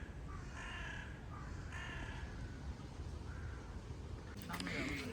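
Crows caw at a Berlin zoo near a deer enclosure, several harsh calls spread across a steady outdoor background, with people talking quietly nearby.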